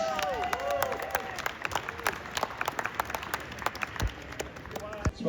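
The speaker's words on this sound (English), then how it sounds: "a round of applause for the Modern Cup" Applause from an audience at a Targa Tasmania rally awards ceremony, with a patter of scattered clapping and some whistles under a speaking voice.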